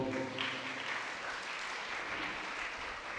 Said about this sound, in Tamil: நம்முடைய வாழ்த்துக்களை நன்றியும் கைத்தட்டி நாம் தெரிவிப்போம்